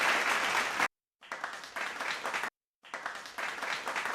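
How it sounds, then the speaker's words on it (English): Applause and cheering sound effect played in three bursts of dense crowd clapping, cut off abruptly by brief silent gaps between them. "We got a big cheer and a double cheer"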